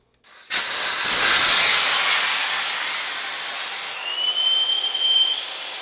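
Air hisses loudly from a street bike tire as it is deflated on a Rabaconda tire changer, a sudden strong rush that eases gradually, then a thin whistling tone joins near the end.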